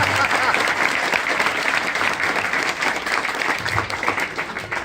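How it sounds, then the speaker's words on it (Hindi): An audience at a children's values-education centre gathering in Hyderabad claps enthusiastically, a steady crackling burst of applause lasting about five seconds. "तो जोरदार ताली के साथ अपना समर्थन दीजिए।"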